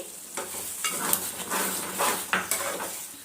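Gongura mutton tripe curry stirred with garam masala in a pot, a spoon scraping and clinking against metal in uneven strokes over a soft sizzle, close and fairly loud.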